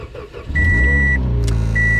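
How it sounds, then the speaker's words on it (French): A car engine cranks and catches, then settles into a steady running hum, with electronic beeps sounding over it; no talking. "On va faire le premier test, est-ce que la voiture veut juste démarrer?"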